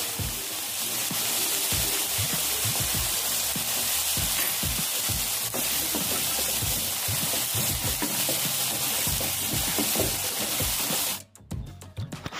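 Finely chopped large onions sauté with salt in a pan for an egg drop curry, a loud continuous sizzle with rhythmic scraping of a spatula that cuts off near the end.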